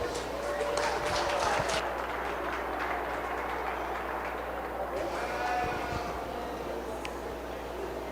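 A crowd in the show ring at a 4-H/FFA county fair sheep and market lamb show claps, a low, steady wash of applause with voices and barn noise running through it.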